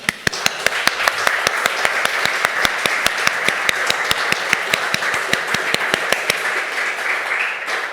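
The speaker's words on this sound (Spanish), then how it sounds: "Merecidísimo aplauso." Applause from an audience at a talk on rights of nature and saving the Mar Menor, with sharp regular claps standing out over a steady crowd clapping wash that fades at the close.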